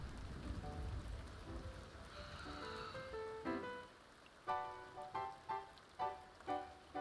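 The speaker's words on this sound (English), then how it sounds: "Thunderstorm." Thunderstorm rain in The Sims 2, a steady wash of rainfall with a rising rumble of thunder midway, then a run of bright game chimes and tones ringing out over the storm.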